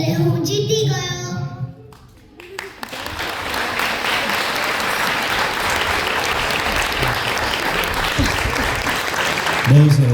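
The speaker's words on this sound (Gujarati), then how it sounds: "તાળીથી વધાવો તમારા છોકરાને" An audience applauds at a storytelling event about Ganesh and Kartikeya's race, sustained, dense clapping filling the room after a brief spoken line, with a voice returning at the end.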